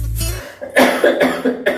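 An adult coughs several times in a row, close and forceful, with short gaps between the harsh bursts.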